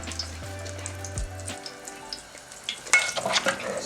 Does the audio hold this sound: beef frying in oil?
yes